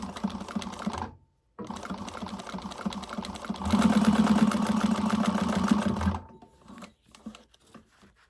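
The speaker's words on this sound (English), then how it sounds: "And do my top stitch here." A sewing machine runs steady bursts of stitching while top stitching a bag, its motor hum and needle clatter near and loud, briefly stopping, then resuming faster before falling to quiet handling sounds.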